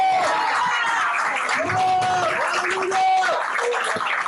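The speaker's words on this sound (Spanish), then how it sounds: "Un aplauso a Yeshua." A church congregation applauds for Yeshua: steady clapping and crowd noise fill the room throughout, with scattered voices and a few sustained tones mixed in.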